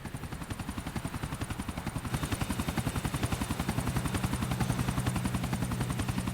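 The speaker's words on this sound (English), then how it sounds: "And then we can follow that chopper" A helicopter in Grand Theft Auto IV thumps with fast, even rotor beats that grow slightly louder and fuller, joined by a steady engine drone.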